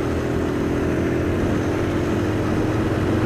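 A motorcycle's engine hums in a steady, even drone heard from the rider's seat in cool weather, continuous and fairly loud with no talking.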